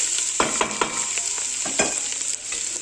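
Roasted ingredients are stirred in a pan, a run of distinct scraping strokes over a bright continuous sizzle, close and fairly loud, with no talking.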